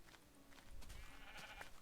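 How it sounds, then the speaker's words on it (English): Sheep in the Minecraft video game bleat in short, thin calls, several in a row over soft game noise, fairly quiet. "Running around, punching sheep"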